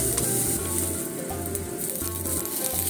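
Eggplant slices pan-fry over medium heat with almost no oil, giving a steady, close, even sizzle with soft crackling throughout.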